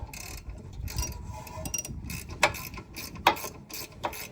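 A ratchet loosens a 10 mm bolt on the brakes of a 2021 Nissan Rogue, making uneven runs of close metallic clicking with a few louder snaps among quieter pawl ticks.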